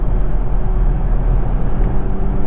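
A Nissan Z Performance Edition rounds a highway on-ramp, its engine a loud, steady low drone heard from inside the cabin, blended with road and tire rumble and no talking.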